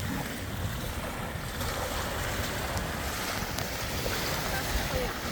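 Lake waves wash steadily against the shore of Mille Lacs Lake, a continuous broadband rush with wind buffeting the microphone and no distinct breaks, on a chilly day.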